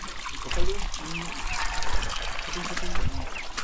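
Water is poured and trickles near hollow blocks at an outdoor building spot, giving a moderately close, uneven splashing stream mixed with background voices.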